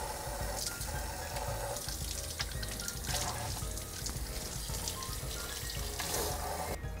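A squid (surume-ika) is rinsed under a running kitchen tap, a steady close splashing rush of water over the flesh and sink with small bursts of handling, and no talking.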